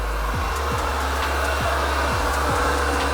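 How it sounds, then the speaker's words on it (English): A floor buffer hooked by hose to a vacuum system runs on a hardwood gym floor during a polyurethane recoat, giving a steady loud motor drone with a low hum and periodic dipping whooshes. "this is a vacuum system, and that's a buffer which connects by this hose to the vacuum"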